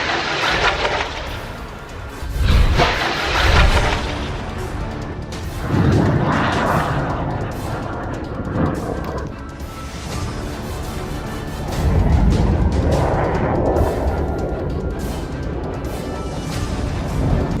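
Rocket barrage fire and explosions in war footage from Gaza fighting against Israeli forces, heavy booms and rumbling blasts recurring in bursts over a continuous loud roar, with no speech.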